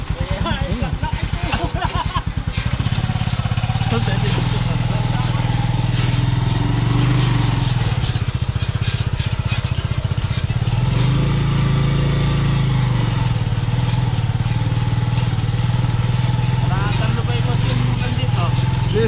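A small single-cylinder hand tractor engine runs steadily and close by on a farm, a loud rhythmic chugging throughout, with people talking faintly over it.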